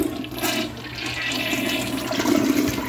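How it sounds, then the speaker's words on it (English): A toy potty's contents flushed down a household toilet, a steady rushing gurgle of water that fills the whole few seconds at close range and swells slightly near the end. "Flush that potty down the big potty."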